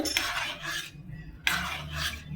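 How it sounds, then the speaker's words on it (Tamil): Metal utensil scraping and clinking against a pot in two bursts, close and fairly loud, like a spoon stirring thick coconut milk for jackfruit payasam, with no voices. "இதை நல்லா கலந்து விட்டுட்டு,"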